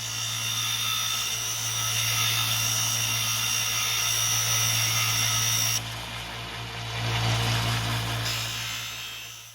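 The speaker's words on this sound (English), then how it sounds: "So as easy as to do is just do it on the sander itself." A power sander grinds square metal tubing to angled ends for a dish mount frame, a loud continuous motor whine with a rough abrasive hiss that shifts in pitch as the workpiece is pressed against it, with no talking.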